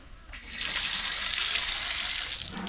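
A lamp stand from a prayer room is washed under a running tap, with a steady, close gush of water splashing over the metal for a couple of seconds after a brief quieter start.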